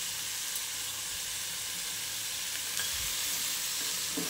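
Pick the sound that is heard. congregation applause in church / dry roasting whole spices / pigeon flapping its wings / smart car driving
dry roasting whole spices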